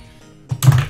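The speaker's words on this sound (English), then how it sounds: "I need to stop clicking my pen." A couple of quick clicks from a pen, close and fairly distinct, the second one slightly louder, set against a quiet background.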